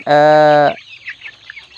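A chicken lets out one loud, drawn-out squawk close up, followed by softer scattered clucks and chirps from the flock around it, faint after the first call.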